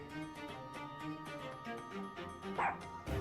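Toby the dog in the video game The Great Ace Attorney 2 gives a few short barks and yips over soft game background music, the clearest bark coming near the end.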